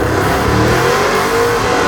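Three muscle trucks launching side by side in a race with tires spinning, a loud, dense roar of revving engines that stays continuous and close throughout.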